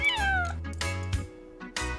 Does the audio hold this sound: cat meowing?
yes